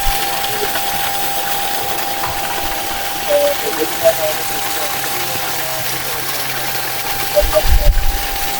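A solar-powered water pump runs steadily with a continuous mechanical hum and a thin, constant whine, close and even, with a few low thumps and gurgles toward the end.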